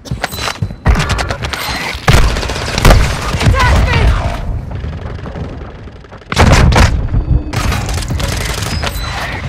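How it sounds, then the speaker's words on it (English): Mortar strike explosions and gunfire in Call of Duty Modern Warfare II multiplayer, loud heavy booms and rapid crackling bursts in clusters separated by brief lulls, with voices in places. "Hostile mortar strike near your position."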